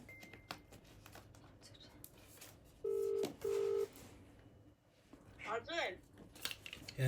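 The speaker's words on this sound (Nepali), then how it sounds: "गाइस कल गर्नु गइरहेको छु" A phone call being dialed, with two short steady keypad tones in quick succession over quiet room noise and soft handling sounds, followed by brief speech nearby.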